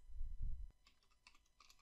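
Light clicks of someone typing a username and password on a computer keyboard, a brief quick run of soft keystrokes after a low thump, faint and close.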